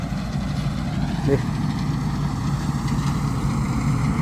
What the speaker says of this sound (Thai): เดี๋ยววันนี้พาท่านผู้ชมมาดูรถเกี่ยว